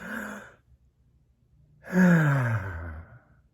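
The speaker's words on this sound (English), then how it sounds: "Breathing in. So you can't breathe in anymore, and breathe out. Just let it go out really fast." A person breathes deeply twice at close range, a short exhale followed by a longer, voiced sighing breath out that trails off, with no words spoken.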